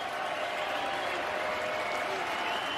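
A stadium crowd at a Yankees–Orioles baseball game stands and claps, producing a dense, even wash of applause that holds steady from start to finish.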